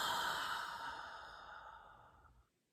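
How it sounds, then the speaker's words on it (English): A slow, deep breath out during a guided relaxation, breathy and soft, fading gradually over about two and a half seconds before silence, heard alone and close. "we're going to exhale, allowing all of that energy to disperse"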